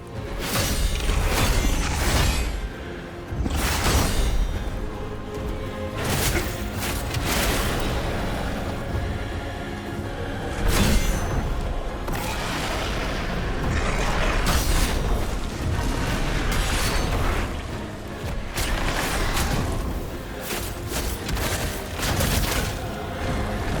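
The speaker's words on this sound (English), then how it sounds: "Delayed explosion." A delayed explosion attack in The First Berserker: Khazan goes off amid dense combat audio, with a continuous barrage of booms, impacts and whooshes layered over the game's score at steady high loudness.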